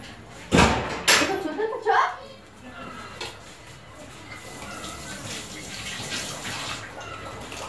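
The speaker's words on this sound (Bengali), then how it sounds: "এবারে আমি থালাগুলো মেজে নেবো" Dinner plates being scrubbed and washed under running water, with a few sharp clattering knocks early on, then a steady wash of flowing water; a voice is heard faintly.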